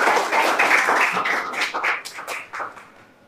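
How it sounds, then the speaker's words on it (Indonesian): A classroom group of students claps together in a short, dense burst of applause that rises quickly and tapers off toward the end, fairly close and with no talking over it. "Kasih tepuk tangan jawabannya."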